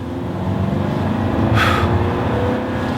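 A 2017 Audi A4 engine hums steadily from inside the cabin in dynamic mode, rising slightly as it accelerates, with a brief hiss partway through.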